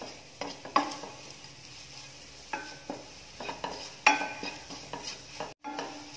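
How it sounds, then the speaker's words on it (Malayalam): Ground spice powders sautéed in oil while being stirred for a restaurant-style karimeen (pearl spot fish) mappas, with repeated spoon scrapes and clinks against the pan over a low sizzle, close and alone. "അതുവരെ നമ്മുടെ ഒരു എണ്ണയിൽ തന്നെ ഈ പൊടികളൊക്കെ നന്നായിട്ടൊന്ന് വഴറ്റിയെടുക്കുക"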